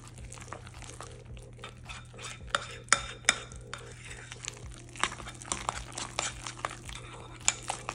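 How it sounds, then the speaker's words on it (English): A utensil scrapes and clinks against a bowl in irregular strokes while a thick mixture with unsweetened cocoa powder is stirred, close up with a low background hum. "Mix that all together thoroughly."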